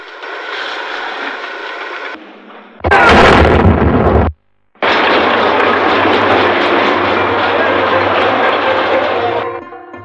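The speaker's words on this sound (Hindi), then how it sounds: "इसको आग लगाते हैं फिर धमाके के साथ फटता है" Gunpowder lit by a safety fuse blasts rock inside the Khewra salt mine in Pakistan's Salt Range. A loud broadband roar swells into a sudden sharp burst, cuts out briefly, then rumbles on steadily before fading.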